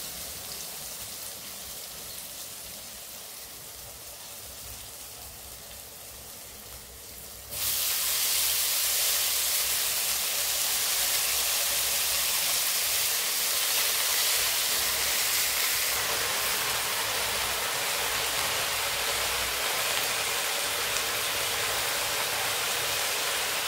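Eggplant fried in a pan, then red leafy greens (lal shak) added, giving a steady close sizzle and hiss that jumps sharply louder partway through and stays loud and continuous without talk.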